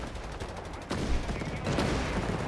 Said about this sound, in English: Machine gun there, finding its building under intense fire from 6-pounder guns, Stuarts, and of course a lot of British infantry.